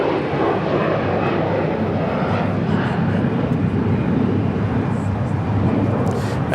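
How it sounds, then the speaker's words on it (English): A United Airlines Boeing 757-300 on arrival at LAX from Dulles, its engines giving a steady, broad jet roar that holds loud and even throughout, with a voice talking over it. "That is United Airlines Flight 632 coming in from Dulles, a 757-300."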